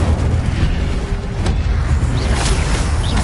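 A fire spell explodes in the Hogwarts Legacy video game on PS5, producing a loud, dense rumbling burst with crackling and whooshing layered through a few seconds of booming game noise.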